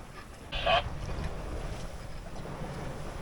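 Wind blows across a small sailboat at sea, a steady low rush of gusts and water noise, with a brief brighter hiss near the start.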